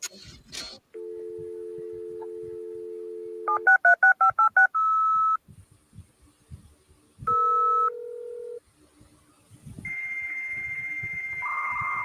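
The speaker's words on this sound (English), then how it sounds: "Not the dial up." A dial-up modem connects: a steady dial tone, then a quick run of touch-tone digits and ringing tones, ending with the start of a harsh, noisy handshake tone. Loud and close, with no talking.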